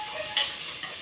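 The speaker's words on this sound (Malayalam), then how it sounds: "വെളിച്ചെണ്ണ നന്നായി ചൂടായിട്ടുണ്ട്. അതിലേക്ക് ഇതാ ഒരു നീരുള്ളി ഇട്ട്, ഒരു കഷ്ണം ഇഞ്ചിയും വെളുത്തുള്ളി ചതക്കിയത്" Shallot, ginger and crushed garlic frying in hot coconut oil, a brief soft sizzle with a faint stir-like tick, quiet and close.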